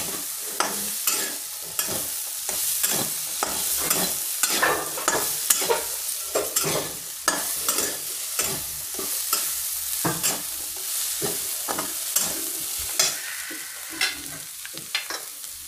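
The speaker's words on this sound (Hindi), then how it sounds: "और इसी में ये मूंगफली के दाने डाल के थोड़ा सा फ्राई कर देंगे।" Peanuts frying in a pan for a Navratri fasting dish crackle and sizzle up close while a spoon stirs them in frequent sharp scrapes and knocks, with no talking.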